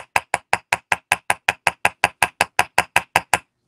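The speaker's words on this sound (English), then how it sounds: "put the ends down on your block and use your nylon hammer" A nylon hammer taps wire earring pieces against a bench block, about seventeen quick, evenly spaced, close knocks in a steady rhythm, then stops.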